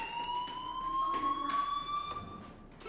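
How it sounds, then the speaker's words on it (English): Fire alarm in the Life Is Strange video game, a steady high electronic tone with rising harmonics sounding continuously, moderately loud with no talk over it. "do you hear that fire alarm?"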